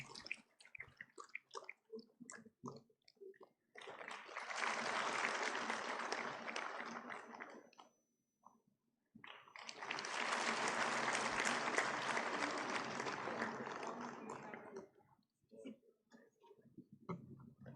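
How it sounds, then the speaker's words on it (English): Two long bursts of loud audience applause at a university convocation in Kashmir, each lasting several seconds and separated by a short pause, with brief spoken remarks before, between and after. "Could we have a huge round of applause from the audience"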